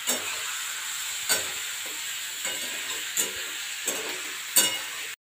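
Spiced boiled ash gourd being stirred in a frying pan: a steady hiss of sizzling with a handful of sharp scraping strokes from the spatula spaced about a second apart, close and moderately loud, with no talking.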